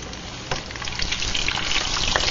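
A flour tortilla fries in hot oil for a tostada, a close, busy sizzle of crackles and pops that swells slightly partway through and keeps going.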